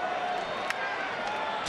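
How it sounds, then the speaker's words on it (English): A baseball stadium crowd at an Astros–Orioles game cheers for the Houston Astros, a steady broad roar with a few brief louder swells, heard at a distance. "Some are leaving, but some are cheering for the Houston Astros and Jordan."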